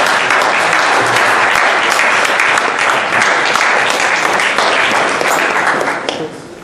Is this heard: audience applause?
yes